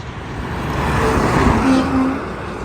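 A Kenworth truck passes on the I-10 highway, a loud, steady roar of engine and tire noise that swells and fades over a few seconds, with no talking.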